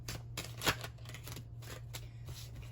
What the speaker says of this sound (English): Let me just shuffle up these cards really quick.